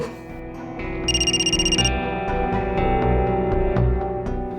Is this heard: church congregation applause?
no